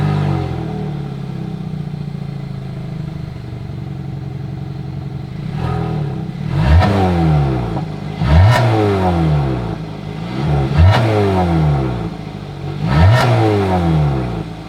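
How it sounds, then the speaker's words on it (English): A 2022 Hyundai Tucson exhaust idles steadily, then the engine is revved four times, each rev a sharp rise and fall in pitch heard up close. "As always, here is that exhaust clip."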